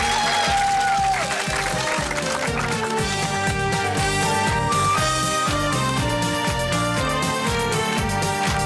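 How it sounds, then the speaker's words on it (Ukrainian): Applause from an outdoor karaoke crowd on the Maidan in Kyiv rises against a backing track with strong harmonic music and a steady beat, the clapping mixed under the loud playback. "Ого, оплески."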